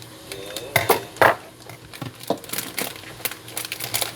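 Several crisp snips and crinkles of plastic packaging being cut, irregular and close, with brief rustling between cuts.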